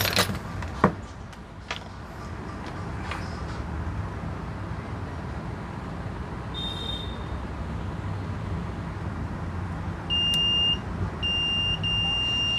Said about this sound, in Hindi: आप बीप की आवाज़ सुन रहे होंगे तो इसका मतलब ये वायर ठीक है।